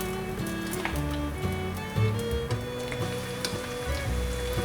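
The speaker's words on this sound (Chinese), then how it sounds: "油热了之后放入面肠。 先炸1条" Wheat gluten strips, coated in sweet potato starch, frying in a pot of hot oil with a steady, even sizzle and a few soft clinks of utensils.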